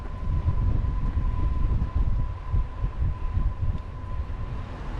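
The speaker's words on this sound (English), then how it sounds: "Picked up a bit of a wind this afternoon." Wind roars against a microphone during a bike tour around Lake Michigan, a steady, loud low rumble with gusty swells throughout and a faint thin whine held underneath.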